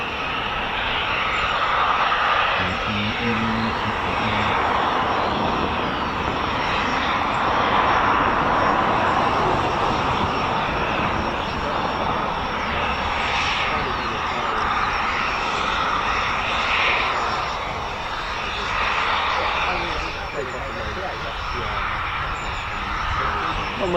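An RAF Phenom training aircraft runs its engine during a VE Day flypast rehearsal at an airfield, giving a steady, loud broadband roar that holds for the whole stretch with little change, with faint talk underneath.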